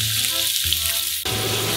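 Onions are dropped into hot Wagyu beef fat and fry with a steady, loud, close sizzle, shifting once as they settle in the pan.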